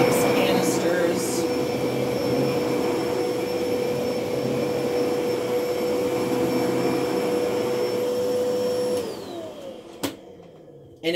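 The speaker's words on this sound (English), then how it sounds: "the deep clean power nozzle and the quiet clean power nozzle on the Electrolux canisters" An Electrolux Oxygen 3 canister vacuum cleaner with its power nozzle attached runs with a steady, close whining drone, then is switched off and the motor winds down.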